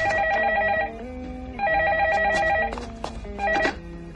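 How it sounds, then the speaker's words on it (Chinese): A telephone rings in a scene from a 1996 Chinese film: several loud, bright ring bursts separated by short gaps, heard close with no speech. "说曹操，曹操来电话啦"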